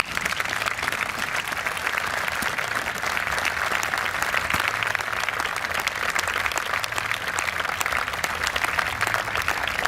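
A crowd watching a state police special operations team demonstration claps in sustained, even applause, a thick wash of many hands close by for the whole stretch.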